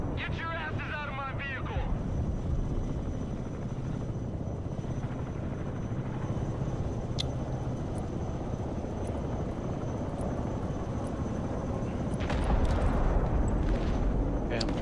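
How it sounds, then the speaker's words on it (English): Heavy rotor and engine roar of an Osprey tiltrotor aircraft in the video game Broken Arrow drones steadily throughout, loud and close, with brief chirpy sounds near the start. "I'm trying to fly the Osprey in."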